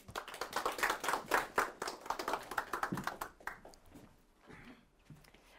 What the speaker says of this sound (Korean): 여러분 박수로 맞이해서 얘기 한번 들어보도록 하겠습니다.